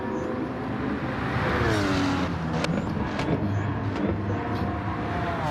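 A race car on a circuit shifting down, its engine note stepping through falling pitches with sharp blips between gears, loud and close and alone.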